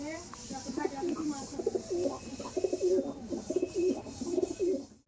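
Kaldom pigeons of the Chennai beat cooing close by in a steady, continuous murmur of overlapping calls at moderate loudness.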